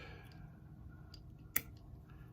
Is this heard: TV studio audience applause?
no